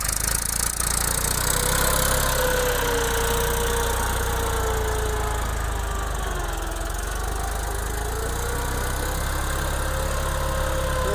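A new farm tractor runs steadily in a field being prepared for watermelon and muskmelon cultivation, its close, loud engine droning at an even pace with no talking.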